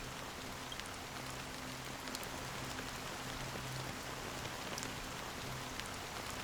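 Steady rain falling in a Penacony game scene, an even, faint hiss with scattered tiny drop ticks and a low ambient hum beneath, no talk.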